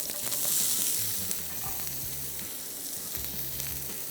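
Chopped onions fry in hot oil in a home kitchen pan, giving a steady, close sizzling hiss with faint stirring clinks throughout.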